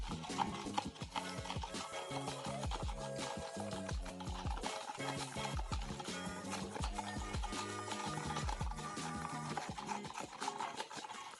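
A spoon clinks and scrapes steadily inside a glass while stirring cooking oil mixed with two tablespoons of salt, a quiet, repetitive rhythm of small taps and rubs.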